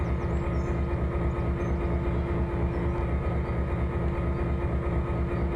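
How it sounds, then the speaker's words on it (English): Locomotive and train cars in the Trainz 2022 simulator with brakes fully applied, a loud steady low rumble and hiss running continuously throughout without any voices. "Train brakes are fully applied."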